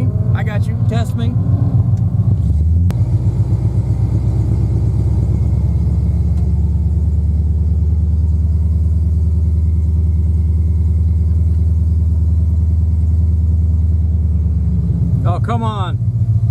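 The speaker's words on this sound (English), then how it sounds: "Come on, Saab. Get up the hill." A Saab car engine labours up a hill in stop-and-go driving, with a steady, loud, low drone that holds for most of the stretch. A voice is heard briefly at the start and end.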